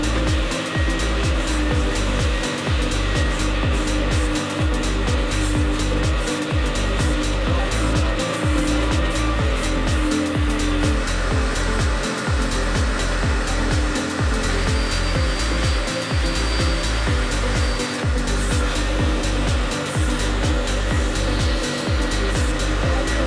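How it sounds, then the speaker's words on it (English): A carpet extractor sucks stain cleaner out of the upholstered seats of an abandoned, long-unwashed Camaro RS, giving a steady, loud whooshing drone with regular rhythmic pulses throughout. "use our extractor to suck it away"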